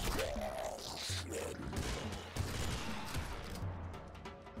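Enemies in the video game Nuclear Throne fire a shot as they die, amid a dense, loud barrage of game gunfire, crashes and impacts that continues without pause.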